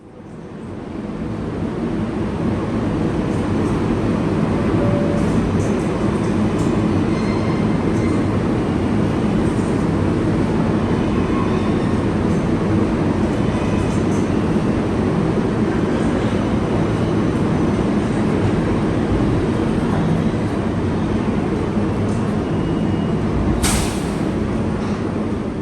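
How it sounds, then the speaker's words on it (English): An R188 Manhattan-bound 7 local subway train runs steadily with a loud, continuous rumble of wheels and car noise, and a sharp brake hiss near the end. "This is a Manhattan-bound 7 local train."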